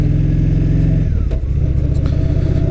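A motorcycle running smoothly after its ignition coil was replaced, its mid-pitched engine revving close by with a steady throbbing idle that drops and settles partway through, heard alone with no talk.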